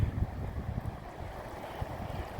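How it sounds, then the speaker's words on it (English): Small river rapids near melting ice in Alaska, a steady broadband rush of flowing water with low rumbling gusts, close and continuous with no voices. "You hear the water, there's the rapids. Little rapids coming down through there."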